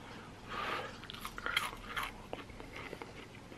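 A person bites into and chews chips, potato chips boiled in gravy, with soft crunchy bites and mouth sounds close up, the loudest bite near the middle, then quieter chewing.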